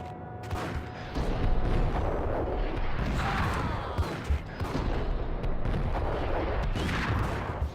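Dense, sustained gunfire and artillery-like blasts in the video game Max Payne, loud and continuous with bursts of shots layered over rumbling booms throughout.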